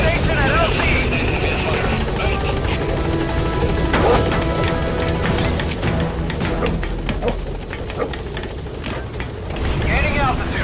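A Pequod helicopter from Metal Gear Solid V arrives at a landing zone. The rotors thrum loudly and continuously, with a clattering mechanical roar and scattered metallic knocks as it closes in.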